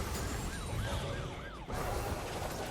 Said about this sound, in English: Kingen turns on the Siren